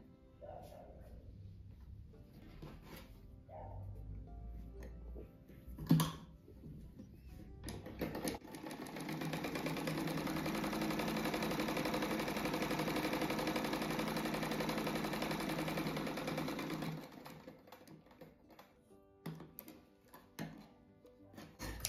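Sewing machine stitching pieces of a 3D rug, a steady mechanical whir running for about nine seconds, with brief handling noises before and after.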